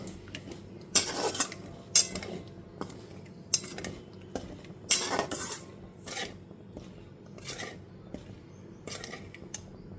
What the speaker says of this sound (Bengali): এরপর এর থেকে যতক্ষণ পর্যন্ত তেল রিলিজ হয়ে আসছে ততক্ষণ পর্যন্ত খুব ভালো মতো কষিয়ে নেব